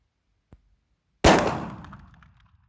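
A single sharp, loud Desert Eagle .44 Magnum pistol shot with a long ringing decay, preceded by a faint click, with no voices.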